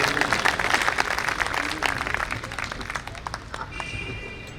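An audience in a hall applauds to welcome poet Manveer Madhur onstage at a poetry gathering, with a dense, moderately distant wash of clapping that gradually thins out.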